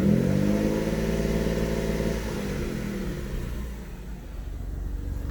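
A 1995 Mitsubishi 3000GT VR-4 engine revs up with a rising whine, then settles back down to a lower steady rumble.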